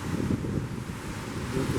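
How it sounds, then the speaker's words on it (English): Ocean waves washing below the balcony of a Norwegian Cruise Line Epic ship on a transatlantic crossing, a steady broad rushing surf mixed with wind buffeting the microphone, continuous and fairly loud with no voices. "As you make a whole video out of just wave action, sound of waves."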